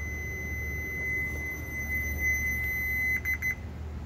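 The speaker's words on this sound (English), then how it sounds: "I got the ohm meter set to beep when this goes on here." An ohm meter set to continuity mode beeps while testing a Dodge Ram ABS wheel sensor circuit: one long, steady high tone, then several quick stuttering beeps as the leads touch and release.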